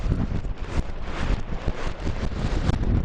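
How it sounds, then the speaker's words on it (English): A fierce gale tears across an exposed stretch of coast, a loud, continuous rumbling roar of wind battering the microphone with no let-up. "We've moved down the coast and it is blowing an absolute hoolie."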